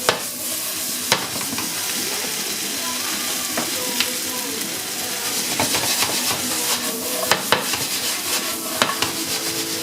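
Tomatoes sizzle and hiss in a hot pan where steak was cooking, with a steady frying crackle broken by regular scrapes and knocks of stirring, close throughout.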